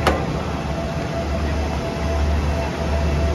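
A steady low rumble of train engine number 850 at Hua Lamphong station, constant and close, with a faint high whine running through it and no talking.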